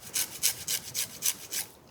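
Quick rhythmic scraping strokes of a lime being grated coarsely for zest, about eight close, soft rasps in a steady back-and-forth pattern with no talking.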